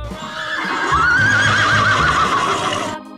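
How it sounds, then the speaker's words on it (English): A horse whinnies loudly and close for most of the clip, a wavering high neigh over low breathy rumble, ending abruptly into quiet. "Horse."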